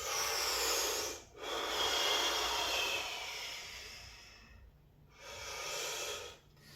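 Slow, deliberate meditation breaths, a long airy inhale-exhale cycle repeated about three times with soft hissing rushes and brief silent pauses between, close and alone.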